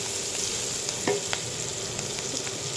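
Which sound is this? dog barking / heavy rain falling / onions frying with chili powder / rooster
onions frying with chili powder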